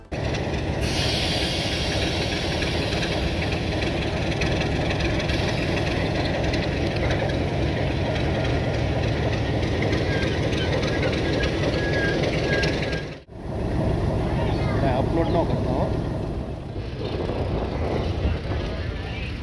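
A train stands at a junction station during an engine change, a steady, loud mechanical rumble that briefly dips about two-thirds of the way through before resuming.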